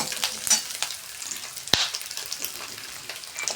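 Red chilli sautéing in a pan of oil for a restaurant-style egg curry, a steady close sizzle broken by spatula stirs and scrapes, with one sharp knock against the pan midway.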